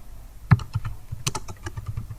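Fingers tap on a computer keyboard in quick, uneven bursts of crisp, close clicks, with one louder keystroke early on and no voices.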